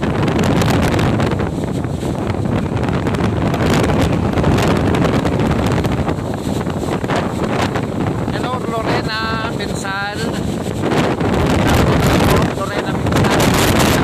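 Strong wind roars and buffets the microphone without pause, a steady loud rush that nearly drowns a brief voice heard partway through.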